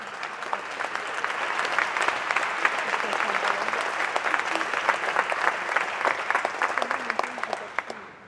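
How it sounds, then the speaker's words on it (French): Sustained applause rises from a festival crowd, many hands clapping densely and evenly for several seconds before fading out at the end, with faint voices mixed in. "Un très gros applaudissement pour nos quatre personnalités."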